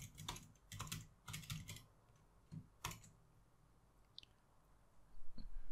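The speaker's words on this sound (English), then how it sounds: "So when I type" Bursts of typing on a computer keyboard while coding in Python, quick clustered clicks in several short runs separated by pauses, close and fairly quiet with no talking.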